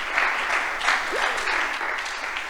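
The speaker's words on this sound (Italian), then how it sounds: "mi sono dimenticata di presentare Martino Carradori, vi chiedo un applauso" Audience applause at an award ceremony for the Premio Sonego, a steady wash of clapping hands from a hall crowd lasting throughout, fairly loud and even with slight swells.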